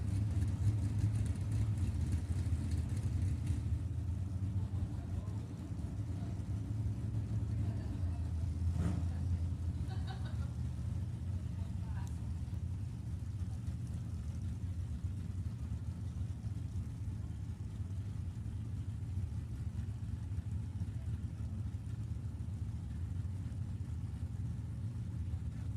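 A 1963 Corvette drag racing car in the C-Gas class idles with a steady low rumble at a drag strip, with a brief rev partway through while the driver searches for reverse.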